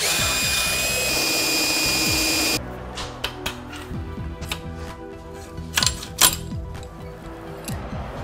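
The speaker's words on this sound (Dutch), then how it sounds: "Ik ga hem nu eruit boren." A high, steady power drill whines for a couple of seconds, drilling out the exhaust plug of a moped, then stops, followed by scattered clinks and small metallic knocks nearby.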